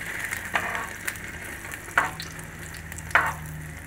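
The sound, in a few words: egg-dipped bread toast frying on a griddle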